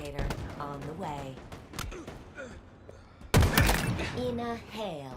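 Gunfire in the video game Halo Infinite, sharp bursts and a heavy impact midway, heard under excited player talk.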